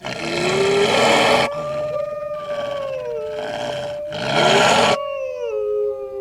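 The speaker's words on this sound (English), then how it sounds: "the three-headed dog Cerberus, who guarded the gates of the underworld" Sound effect of the three-headed dog Cerberus howling: several long, loud, drawn-out howls rise and fall in pitch, with brief breaks between them and a final quieter wavering howl, close and alone.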